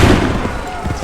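A rumbling musket volley from Assassin's Creed III, heavy and booming with a dense low roar that fades briefly over about a second, sitting within loud game sound and a shouted voice.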